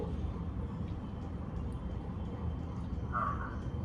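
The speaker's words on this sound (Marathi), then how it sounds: "एक कावळा येतो बरं का इथे" A crow caws faintly outdoors near a house, a brief call late in the clip over a low, steady background hum.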